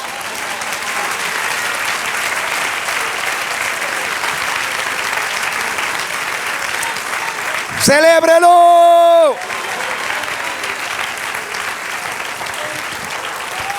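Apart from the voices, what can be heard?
church congregation applauding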